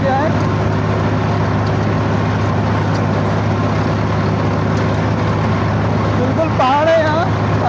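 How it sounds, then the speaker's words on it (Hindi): A Swaraj tractor engine runs steadily on hilly mountain terrain with a constant low, loud diesel drone throughout, and a voice speaks briefly near the end. "किस तरीके से ट्रैक्टर चल रहा है"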